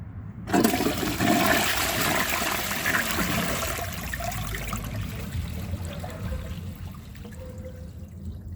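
A 2011 Duravit Starck 3 toilet flushes a grocery bag: a sudden loud rush of water that stays strong for a few seconds, then fades into a softer trickle and bowl refill.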